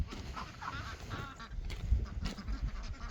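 A duck on a farm gives several nasal quacks and honks, close by, over faint outdoor background noise.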